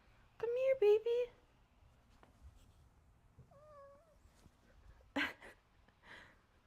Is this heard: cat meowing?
yes